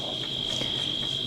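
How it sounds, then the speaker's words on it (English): Cicadas buzz in a steady, continuous high-pitched drone outdoors after storms, with faint pulsing swells and no voices over it. "can you hear the cicadas?"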